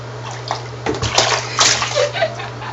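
A baby slaps a rag into bathtub water, making several splashy bursts and sloshes at close range over a constant low hum, with a small vocal sound in between.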